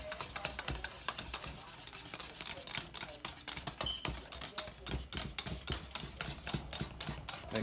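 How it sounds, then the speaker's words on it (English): A whisk beats thickening cornmeal cream in a pot, rapid rhythmic clicks and taps against the metal sides, steady and close, with a little talking in the background. "It's actually giving me some good resistance on my whisk."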